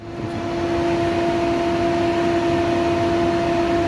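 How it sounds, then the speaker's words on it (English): The factory radiator cooling fan from a 1990 Jeep Cherokee spins up and then runs at a steady whirring drone with a constant tonal hum, loud and close. "This is the factory fan from the 90 Jeep Cherokee."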